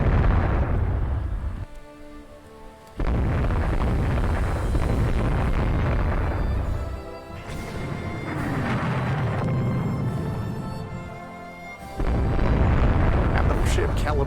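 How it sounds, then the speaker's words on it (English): Battleship-caliber coastal guns in Rule the Waves 2 fire in heavy booming blasts, with long rolling explosions surging and fading in repeated waves. A voice talks underneath. "Battleship caliber coastal guns."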